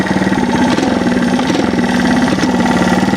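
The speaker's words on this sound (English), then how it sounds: "Starting it up is gentle, because it'll take your leg off if you don't." A Honda TLR trials motorcycle engine runs just after starting, a loud, close, steady single-cylinder putter with an even pulsing beat and no talk.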